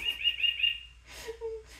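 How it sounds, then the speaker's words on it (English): A bird-call wall clock sounds the hour with a quick run of bright, chirpy tweets, followed by a short lower whistle-like call, close and fairly quiet in a still room. "That's my clock I got that bird tweets every hour."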